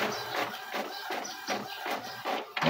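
An Epson M200 inkjet printer runs fast in draft mode, its print head shuttling back and forth in a steady, repeating rhythm of loud mechanical sweeps, close by with no talk.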